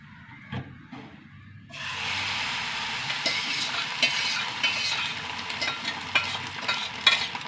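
Egg frying in a hot pan in a home kitchen, a steady bright sizzle that starts suddenly after a few soft knocks and carries on with small pops and crackles.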